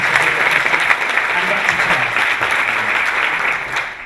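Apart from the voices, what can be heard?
audience round of applause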